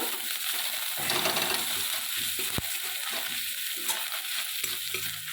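Ginger paste and turmeric frying in a pan, a dense close sizzle with spatula scrapes and stirring strokes, plus one sharp metallic click midway.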